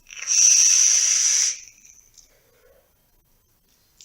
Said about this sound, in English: I'm going to let go of the fire button here now. And it's still sizzling